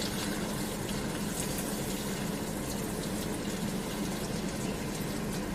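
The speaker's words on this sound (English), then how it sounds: "it's a pretty intense waterfall" A dense, unbroken roar of rushing water fills the whole stretch, steady and loud, like a powerful waterfall nearby.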